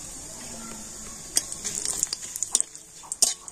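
Whole cumin, two bay leaves and a dried red chili fry in two spoons of hot mustard oil, a steady faint sizzle broken in the second half by sharp spluttering pops and clinks of stirring.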